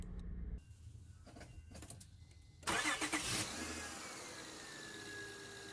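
A car engine fitted with a replacement starter motor cranks briefly and fires up, then settles into a steady idle, close and fairly loud with no talking.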